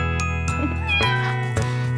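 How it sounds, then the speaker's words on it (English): A cartoon cat meows in a children's animal sound song, a few melodic meows sung over steady backing music, close and clear. "Cat"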